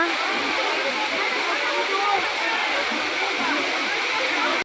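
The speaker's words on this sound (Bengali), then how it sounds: "শশকরা আওয়াজ হচ্ছে ঝর্ণার আওয়াজ হচ্ছে" A waterfall in the Ayodhya hills of Purulia roars nearby, a loud, steady, broad rushing hiss of falling water that holds constant from start to finish.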